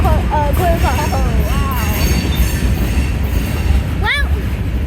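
A freight train passes close by, its loud continuous rolling rumble punctuated by squealing wheels early on and again near the end, with a person talking faintly at times.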